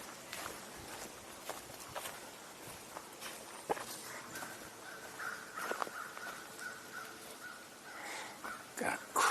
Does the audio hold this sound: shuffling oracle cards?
no